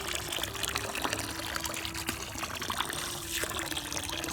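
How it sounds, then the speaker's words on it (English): Hot water poured from a container onto the iced-over surface of a garden pond on a cold winter day, a steady, close splashing trickle that runs continuously throughout. "I'm going to simply pour it over the pond in the same spot and make a hole in the ice."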